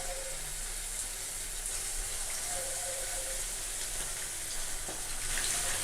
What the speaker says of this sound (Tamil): இப்போ ஒரு பீஸாக எண்ணெயில் போட்டுக்கலாம்.